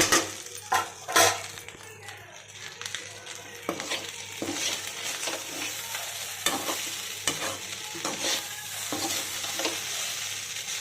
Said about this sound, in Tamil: நம்ம வறுத்து வச்ச முட்டையை சேர்த்துக்கலாம்